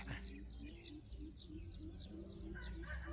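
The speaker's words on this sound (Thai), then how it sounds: "มันคือไก่กันแท้" Chickens cluck repeatedly in an outdoor setting, with chirping birds and faint background noise, soft and somewhat distant.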